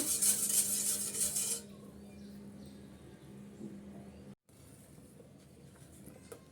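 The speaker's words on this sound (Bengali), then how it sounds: "অনবরত নেড়ে চেড়ে আমি দুধটা জাল করে নেব" A utensil scrapes and clinks steadily against a pot as milk is stirred continuously while it heats to a boil, with a bright hissing burst at the start and a low hum underneath.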